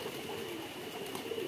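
Pigeons at a pigeon farm coo softly and continuously, a steady low murmur of birds close by with no voices over it.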